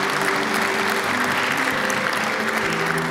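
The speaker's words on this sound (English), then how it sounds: "give these guys a round of applause" Steady, full applause from a large seated audience at a Naval Academy campaign event, dense continuous clapping at even loudness with a faint voice underneath.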